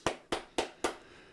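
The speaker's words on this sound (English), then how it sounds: "I gotta give a clap too" Four single hand claps, evenly spaced about a quarter second apart, close and fairly crisp, with no talking.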